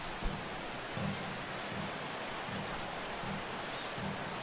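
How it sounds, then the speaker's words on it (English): Steady rain pours down over a ballpark at game time in MLB The Show 16, a dense continuous hiss with soft low rumbles pulsing underneath. "The rain, as we've mentioned, coming down fairly steadily here at game time."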